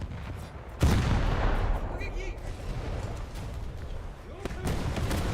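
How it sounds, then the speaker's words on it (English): Heavy 50-cal machine gun fire striking a boat in a naval video game: a sharp impact, then a rattling, rumbling barrage beneath spoken commentary. "something is hitting me with 50 cals, and I don't know what it is"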